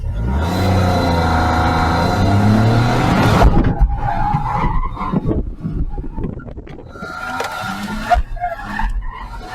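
A car launches onto a slalom course, its engine revving loudly as the tires squeal and skid, then cuts to quieter bursts of tire scrub and distant engine noise as it works through the cones.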